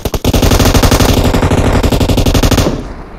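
Rapid close-range automatic gunfire from a weapon in PUBG Mobile, a loud sustained burst of fast, evenly spaced shots lasting over two seconds, then cutting off abruptly.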